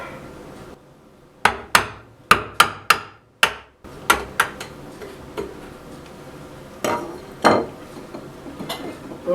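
Mallet blows on a steel chisel cutting mahogany for a table build with a cheap Harbor Freight chisel set: sharp, close wooden knocks in a quick series of about eight strikes, then a pause and a few heavier hits.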